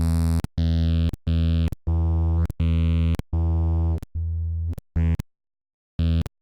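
Synth bass track in a mix session on a drum and bass bus: loud, sustained low notes with rich buzzing harmonics, played in a choppy repeating pattern of short bursts separated by brief silences, alone with no voices.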